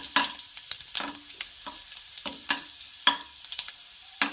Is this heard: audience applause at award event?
no